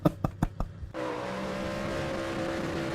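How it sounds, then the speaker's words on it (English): Race car engine in an iRacing replay heard from outside the car, a few quick revving bursts and then a steady, sustained high-revving drone running loud to the end. "Look at the replay from the outside so you guys can hear the car"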